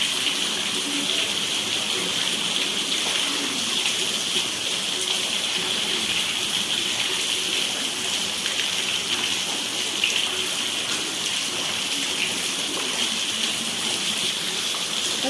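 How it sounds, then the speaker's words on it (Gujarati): Heavy rain pours steadily over a village, a dense, even wash of hiss and patter that runs unbroken and fairly loud, with no voices over it. "વરસાદ આવે છે"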